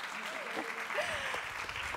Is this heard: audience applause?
yes